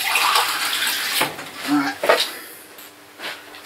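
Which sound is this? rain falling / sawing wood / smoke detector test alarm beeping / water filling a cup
water filling a cup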